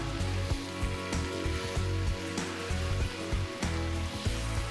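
Marinated chicken pieces fry with onions for an Andhra garlic chicken vepudu, filling the clip with a dense, continuous close sizzle and crackle, punctuated by soft knocks and scrapes of stirring.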